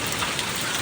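Rain, with ice reportedly falling, makes a dense, steady patter of drops close by, a constant wash of noise through the brief moment.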